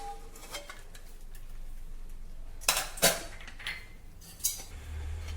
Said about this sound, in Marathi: कुकर थंड झालाय. आता आपण हा उघडून घेऊया.